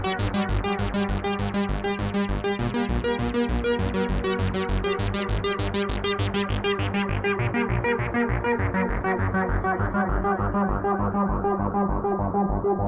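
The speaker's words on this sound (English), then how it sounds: "It's the Flamma FS22 Ekoverb. It's a reverb and delay hybrid." A synthesizer runs through a Flamma FS22 Ekoverb reverb and delay pedal, playing a dense, rhythmic pulsing pattern whose bright repeats wash together and darken into a fading tail, loud and steady with no talking.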